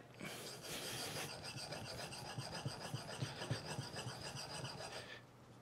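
A wood plane iron is honed on a high-grit sharpening stone, giving steady rhythmic rasping strokes back and forth, close and fairly loud, with no talking.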